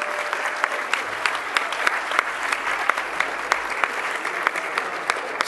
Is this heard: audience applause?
yes